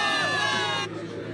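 A crowd of soldiers in Zenless Zone Zero cheering and whooping together, a loud sustained roar of many voices that drops off sharply near the end of a short burst.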